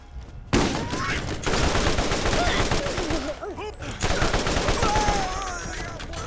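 Gunfire in the video game Borderlands: loud, dense bursts of rapid shots fire almost without pause, broken by brief gaps, with a few electronic whistles and game effects mixed in.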